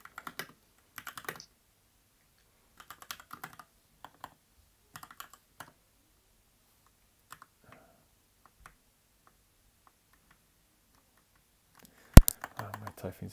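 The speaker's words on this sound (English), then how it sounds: "Oh, my typing's just getting worse." Keys on a computer keyboard tapped in short, scattered bursts, quiet and a little distant, with a louder sharp clatter near the end.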